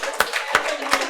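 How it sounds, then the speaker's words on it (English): Audience at a hospital patient-education presentation session claps, with a few distinct sharp claps standing out over a soft, thin patter of scattered hands, fairly close. "All right, give yourselves a round of applause."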